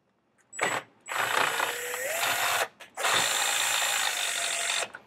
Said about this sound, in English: can also run this with power drill.